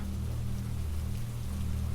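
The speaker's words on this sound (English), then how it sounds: "the whisper of rain as it slides across the roof and drips through the eaves" Steady rain patters on the roof of a wooden cabin by the sea and drips from the eaves, an even, close, unbroken hiss with a low rumble beneath it and no voices.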